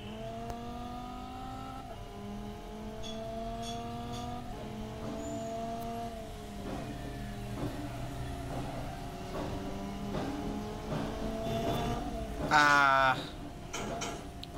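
Racing car engine in the Assoluto Racing sim game, revving and shifting through gears with rising and falling pitch over several passes, a brief loud tire squeal near the end, steady and close throughout.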